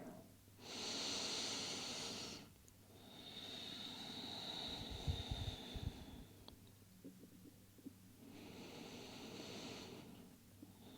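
Slow deep breaths in a wide-leg child's pose yoga posture, with forehead on the mat, three long airy inhale-exhale swells, close to the microphone, separated by quiet pauses with a faint body rumble.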